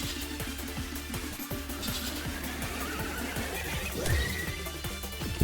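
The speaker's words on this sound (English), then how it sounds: "The goddamn horses." Horses neighing in the video game Desktop Dungeon, a loud whinny rising near the end over a busy layer of repeated game sound effects and steady background music.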